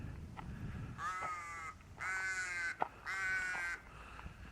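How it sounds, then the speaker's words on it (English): A crow caws three times in open country just outside a Goldfields town near Leonora, each harsh, drawn-out call standing out clearly against faint outdoor background noise. "Old crow there,"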